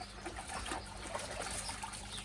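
Water from a water butt rinsing a koi pond filter bag, a steady close trickle and splash running throughout.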